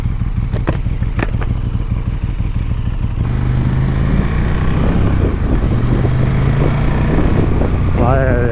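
A KTM 1290 Super Duke big twin-cylinder motorcycle riding through town, its engine a loud, close, continuous rumble with a rising rev near the end, and a voice talking over it at times.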